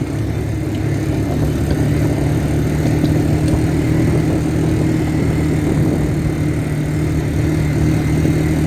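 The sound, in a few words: four-wheeler ATV engine running while driving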